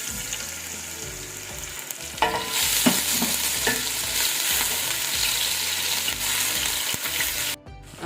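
Garlic and ginger paste hits hot oil in a pan while cooking a kebab curry, giving a loud, steady sizzle that flares sharply after an initial stretch of low background noise, with a few stirring scrapes throughout.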